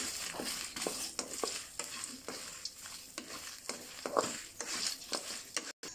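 Dried chillies sizzle in a hot pan while a utensil stirs and scrapes against it in irregular strokes, fairly quiet and close.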